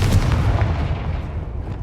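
Bombarda and Confringo explosion spells in the Hogwarts Legacy video game: a loud, deep booming blast with rumbling low-end impacts that fade over about two seconds.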